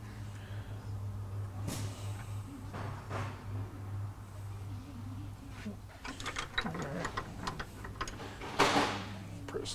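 A bench vise presses a track bar bushing into place during a BD Diesel track bar install on a 1998.5 Dodge 24-valve 4WD: scattered metallic clicks and creaks, louder toward the end, over a steady low hum.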